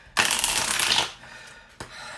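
Tarot cards riffle-shuffled in one quick, crisp burst, followed by a brief tap and a softer shuffle as the deck is squared up. Close and clear.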